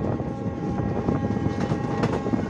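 A train on the Budgam to Banihal route in Kashmir rumbles along with a steady, dense roar of wheels and carriage noise, continuous and fairly loud.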